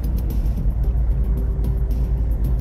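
A fishing boat's engine out on the Barents Sea eases off the throttle, a steady close low rumble and drone that holds level and continuous, with no voices over it.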